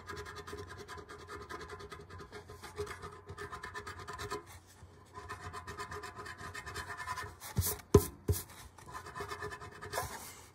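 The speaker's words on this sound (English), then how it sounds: "So that is the scratching off of Rear Window from 1954." A Rear Window (1954) scratch-off poster is scraped close by in steady, dry rasping strokes, with brief pauses and a couple of sharper scrapes near the end, and no talking.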